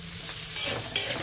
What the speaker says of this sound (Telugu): మంచి కలర్ వచ్చే వరకు ఫ్రై చేసేసుకోవాలి